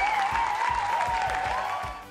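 Studio audience applause greeting contestants on a French sausage-themed quiz show, a steady roll of claps with rhythmic bass thumps and a host's tone above, fading slightly toward the end.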